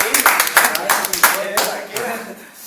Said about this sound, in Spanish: un aplauso para esta china